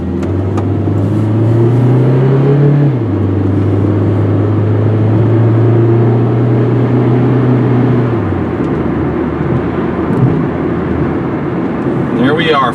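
A 1998 Saturn SL1 engine, loud and close, accelerating steadily with rising revs, then dropping pitch at a gear change before climbing again, road rumble continuing throughout with no talk.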